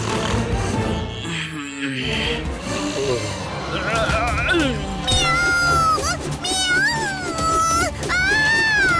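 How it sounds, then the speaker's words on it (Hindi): A cartoon cat in a Hindi animated show meows several times, drawn-out and wavering, in the second half over a busy mix of voices and background sound. "यहाँ बिल्ली है"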